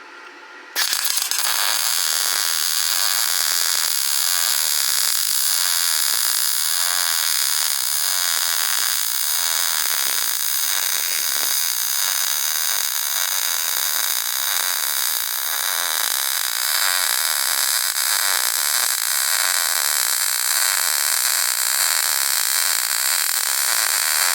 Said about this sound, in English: If your weld sounds clear, crisp and consistent, then your combination of settings and technique is somewhere handy.